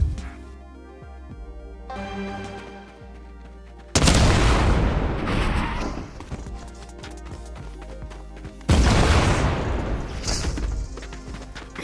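An explosive device blows up in Fortnite Creative, set off by a button, with two loud blasts each followed by a rumbling decay, layered over a quiet game music bed.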